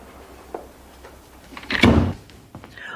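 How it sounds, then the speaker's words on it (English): A door pulled shut with a soft whoosh building into a solid closing thud, preceded by a faint click and followed by a short rattle, heard indoors in a quiet room. "close the door, honey"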